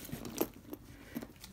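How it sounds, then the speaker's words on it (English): Car keys jangle and clink in a few quick bursts as they are dropped into a patent faux leather handbag, close and moderately loud, with light rustling and no talking. "And my car keys."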